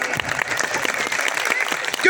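A church congregation bursts into hearty applause during a sermon, brief dense clapping with a voice heard alongside.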